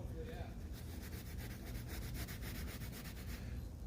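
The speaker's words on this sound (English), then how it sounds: "So now we're gonna get to sanding." Steady, close-up rubbing of fine 1500 to 2000 grit sandpaper worked back and forth in an even rhythm, a continuous scratchy hiss with regular strokes and no talking.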